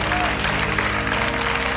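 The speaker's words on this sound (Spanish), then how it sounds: "Dele un aplauso al Rey" A church congregation claps loudly and continuously during a pastor's evangelism service, a dense, sustained wall of applause filling the short moment.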